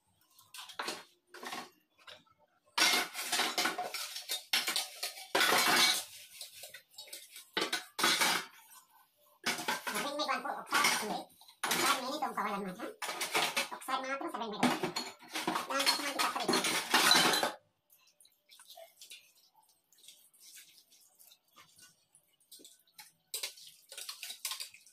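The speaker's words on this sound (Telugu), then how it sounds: "ఇంకా గిన్నెలు తోముకోవడం మామూలుగా" Plates and glasses are scrubbed by hand, with clattering cutlery and dishes and rubbing scrapes that come in busy bursts for a stretch, then fade to sparse quiet clinks.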